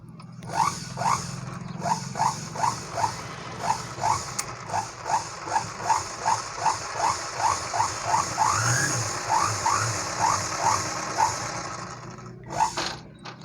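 A sewing machine stitches a fall onto a saree in a steady run of rhythmic mechanical clacks, close and moderately loud, pausing briefly near the end before a final burst.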